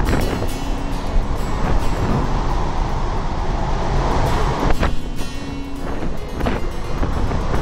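Strong wind of about 30 knots gusting near 40 sweeps over the deck of a Holland America cruise ship at sea, a loud, steady roar with buffeting against the microphone, heavier gusts, and wave noise mixed in.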